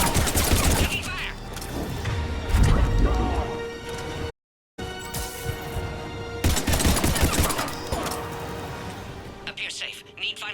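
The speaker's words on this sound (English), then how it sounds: "Taking fire." Gunfire in a Mass Effect 3 battle: dense overlapping shots and impacts run almost without a break under loud dialogue, dropping out briefly partway through, with crashes and effects mixed in.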